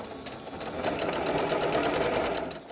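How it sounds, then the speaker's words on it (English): Sewing machine stitching elastic between two layers of a fabric face mask, a close, steady run of rapid needle thumps lasting a couple of seconds and fading slightly at the end. "And now you're going to continue to sew"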